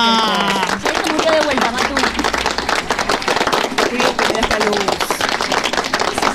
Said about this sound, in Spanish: los aplausos electrónicos de Diego